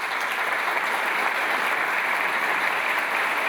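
An audience claps steadily and loudly at a book launch, a dense continuous wash of applause with no talking over it.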